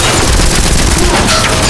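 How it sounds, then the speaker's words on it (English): A submachine gun fires a dense, loud burst of rapid shots, heard up close as a short continuous rattle with booming low end. "the monster, which also pulled out a submachine gun and began shooting with proficient skill"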